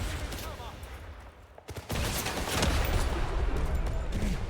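Video game gunfire in First Light bursts out in dense, rapid volleys, loud and close, building from scattered shots into a continuous clatter of fire, with a faint voice in the opening seconds.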